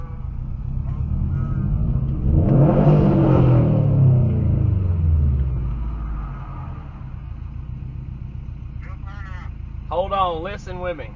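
Subaru STI engine revving and accelerating from low rumble up through a surge, loud and close inside the car, then settling into a steady drone as a voice talks briefly near the end.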